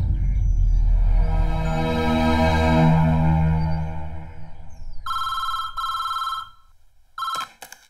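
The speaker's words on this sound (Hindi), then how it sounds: "अरविंद तुम्हारे लिए फोन" A telephone rings loudly in a Hindi film scene, two long trilling bursts and then a shorter one, after a low rumbling passage.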